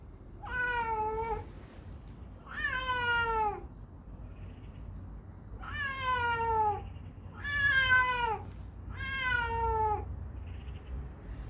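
A cat meows five times in a row, each call drawn-out and clear, with short pauses between, over faint background rumble.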